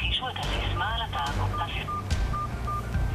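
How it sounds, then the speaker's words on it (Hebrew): Telephone keypad DTMF tones entering a voicemail password: a quick run of several beeps followed by a few evenly spaced single tones, clear and close, with a recorded prompt voice overlapping the start. "נא הקישו את הסיסמה על התא"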